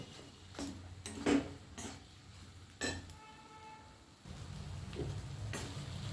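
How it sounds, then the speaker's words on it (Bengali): Mashed roasted eggplant and egg being stirred and dried out in a pan: faint sizzling under a few distinct spatula scrapes and clinks against the pan, quiet and close, with no talking. "এইভাবে নেড়ে নেড়ে নেড়ে নেড়ে এটাকে শুকিয়ে ফেলে তৈরি করতে হবে।"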